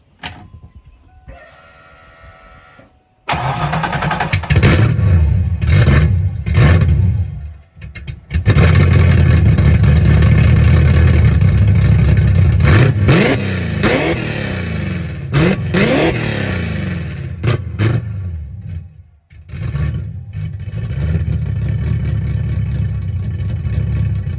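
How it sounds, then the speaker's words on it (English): A Fox body car engine revs hard several times through loud Spintech aftermarket mufflers, deep throaty roar rising and dropping, with brief pauses between bursts. "we got these Spintechs in here, and let's give them a listen"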